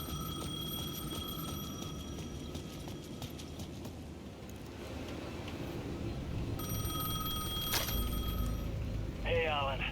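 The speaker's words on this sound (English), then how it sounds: "payphone at the edge of the plaza was ringing again." A payphone rings in the horror game Alan Wake 2, its bright electronic tones repeating in bursts over a low droning ambient bed at the edge of a plaza.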